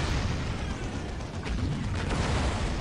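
Battle explosions in the real-time strategy game Dawn of War Unification form a dense, loud, sustained rumble of blasts and mechanical noise. No one speaks over it.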